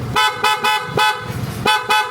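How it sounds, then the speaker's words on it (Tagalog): A PIAA horn on a KYMCO Skytown 150 scooter honks repeatedly, about five loud bursts of roughly a quarter second each in an uneven rhythm, close by, with no talking. "Yung busina natin, PIAA."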